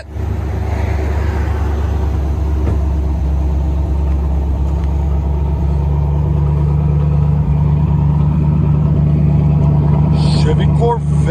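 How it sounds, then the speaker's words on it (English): A 1979-1980 Chevy Corvette V8 running a straight pipe exhaust idles with a deep, loud, steady rumble and a lumpy pulsing throb, while a person talks briefly near the end. "Chevy Corvette. Straight pipe."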